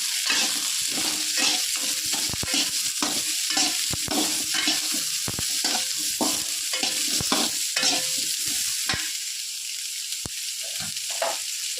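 Onions sautéing in a pan while a spoon scrapes and stirs them in quick repeated strokes over a constant close sizzle, with no talking.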